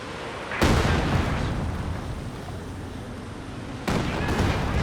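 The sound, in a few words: Katyusha rocket artillery salvo in Company of Heroes 2 video game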